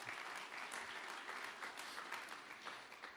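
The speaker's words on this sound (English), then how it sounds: "a big round of applause for everyone who makes this happen" A crowd at an opening ceremony applauds continuously, a dense patter of many hands clapping, heard from a distance and fairly soft.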